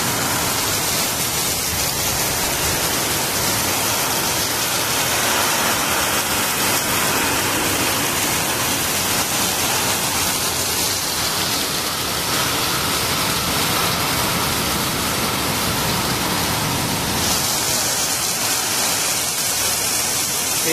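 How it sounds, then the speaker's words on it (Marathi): Heavy pre-monsoon downpour driven by strong gusting wind in Sudhagad, Raigad, a dense, steady roar of rain and wind filling the whole clip without a break, loud and close with no voices. "वारा पण खूप आहे, पाऊस पण खूप आहे."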